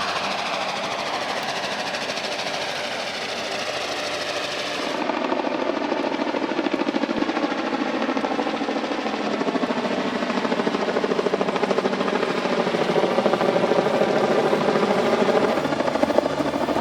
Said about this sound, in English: Helicopters? Hauling timber?